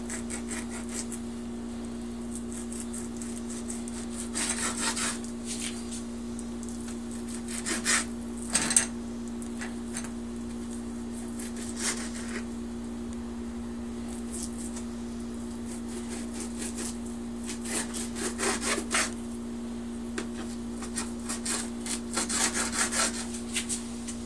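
A knife trimming fat off a steak being prepared for noodles, a series of intermittent rasping, rubbing strokes over a constant steady hum, close and moderately loud, with no talking.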